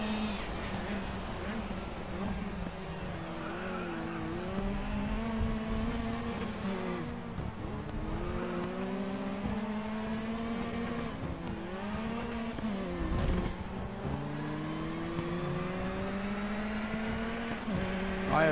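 Race car engine in GRID Autosport during a Pipercross Touring Car Series race, droning loudly and continuously while its pitch climbs and drops with repeated gear changes, with no talking.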